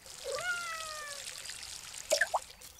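A cat meows in the Garden Simulator video game, one drawn-out, clear meow near the start, followed by a few short, bright chirping sounds toward the end, moderately quiet over faint background.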